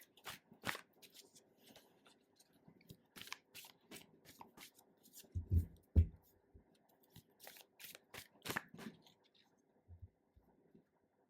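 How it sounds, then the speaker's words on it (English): A deck of spirit oracle reading cards is shuffled and pulled by hand, giving soft scattered riffles and taps, with a couple of louder thumps partway through and occasional breathy voice sounds. "Now I am going to pull some cards from the Spirit and Sacred Spirit reading cards."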